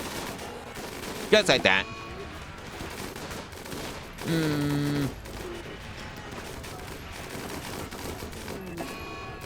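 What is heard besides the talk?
turret gunfire in Rimworld video game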